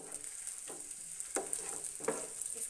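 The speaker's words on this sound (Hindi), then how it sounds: "प्याज को हल्का सा सॉटे करेंगे।" Onions sautéing in hot oil for veg mayo macaroni make a soft, low sizzle, with several sharp scrape and stir clicks from a utensil against the pan, quiet and close.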